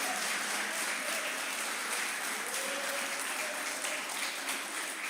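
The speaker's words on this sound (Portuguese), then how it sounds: "Se você crê, aplauda o Senhor. Mas aplauda com força." A church congregation applauds in a dense, continuous wash of clapping that holds steady and loud throughout, filling the room without letting up.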